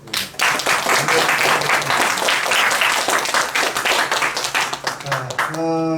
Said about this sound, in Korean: 두 선생님께 뜨거운 박수로